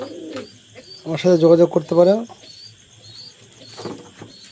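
An adult breeding pair of pigeons, one male and one female, coos softly at the start and again faintly near the end, while someone talks loudly in between.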